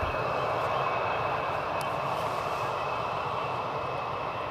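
A KLM airliner rolls off the runway at the first exit after landing at Amsterdam Schiphol, its engines a steady, broad roar that holds at a constant level without rising or fading throughout.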